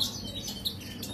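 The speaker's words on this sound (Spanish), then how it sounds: "Este es un jilguero mío de concurso" A European goldfinch kept for song contests chirps in a few short, high, thin tweets over a steady hum of background noise, with no voices.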